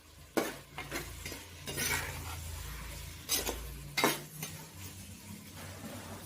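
Onion and tomato being stirred in a pan for sardine fish curry, quiet sizzling under a few scraping strokes and light clinks of a spoon against the pan, close up.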